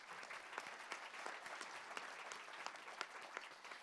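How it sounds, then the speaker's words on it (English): Audience applause for a forum panel at the G21 Forum, a steady wash of many hands clapping at moderate distance, fairly quiet and continuous with no voices over it. "So, ladies and gentlemen, a round of applause."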